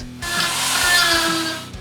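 A chainsaw cuts into wood for carving, a loud steady engine whine with rising and falling bogging as the blade bites, close and continuous with no talk.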